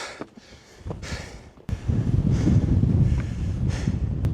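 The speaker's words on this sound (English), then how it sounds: "Oh, it's going to be mega windy. This is windy." Strong wind buffets the microphone while climbing in the Brecon Beacons, Wales, in a steady rushing roar, growing louder and heavier after a sudden gust partway through.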